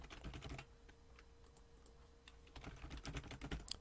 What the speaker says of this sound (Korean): 키보드 타이핑을 입력하면은